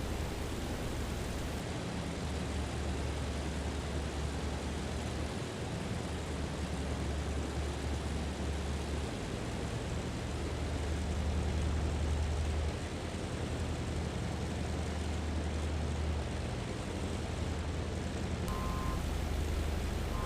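A Curtiss C-46 Commando taxiing in Microsoft Flight Simulator, a steady low piston-engine drone with broadband rumble that holds throughout, swelling slightly midway, with no voices over it.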